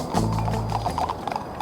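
Several horses gallop hard, hauling a stagecoach, their hoofbeats thudding in a fast steady clatter up close, with a brief whinny near the start and the rumble of the coach beneath.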